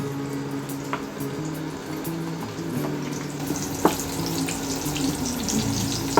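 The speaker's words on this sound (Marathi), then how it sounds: "आता मी इथं हा कांदा परतून घेणार आहे थोडा लाल होईपर्यंत." Onion frying in a pan, a steady broadband hiss and sizzle running throughout with a faint low hum beneath and an occasional small clink.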